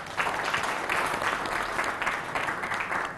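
Studio audience applause on a health quiz show for the contestant leading after the first round: dense, even clapping that fills the whole stretch at a constant level, with no talking over it.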